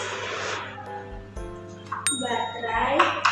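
A homemade electric bell built from a used tin can, battery, switch and small motor rings with bright metallic ringing, rising louder near the end over steady background hum while someone talks.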